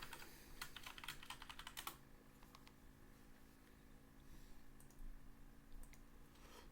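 Clicks from a computer keyboard being typed on, a quick, busy run of keystrokes in the first couple of seconds thinning to scattered, faint taps over a low background hum.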